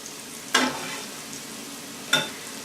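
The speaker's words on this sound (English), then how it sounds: "I'll just cook this starch a little bit, then I'll add my broth" Starch cooking in a cast iron skillet for a mushroom sauce, with a faint steady sizzle broken by two sharp stirring scrapes about a second and a half apart. No one talks.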